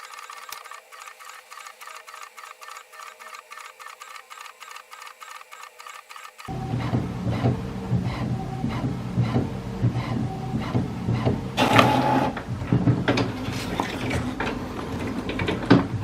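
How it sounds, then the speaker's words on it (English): An HP Envy Inspire all-in-one printer prints a borderless panorama photo, first with a rapid, even mechanical ticking, then a louder whirring, rolling feed with clicks and a brief burst of motor noise. "Tap on the print icon to print this photo."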